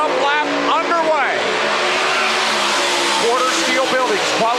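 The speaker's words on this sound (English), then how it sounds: "Coming under the green, the warm-up lap underway." A pack of race cars rumbles on a warm-up lap in Kansas, engines whining in rising and falling sweeps as they pass at close to mid distance, with a commentator talking over the roar.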